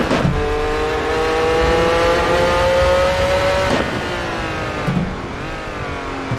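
Race car engine in Assetto Corsa holding a loud, steady high-revving drone, briefly dipping at a gear change before climbing again, close and continuous.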